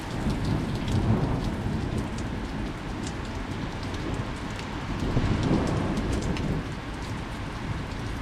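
Heavy rain pours steadily with low rumbling thunder rolling underneath, a dense, loud, severe thunderstorm with no voices.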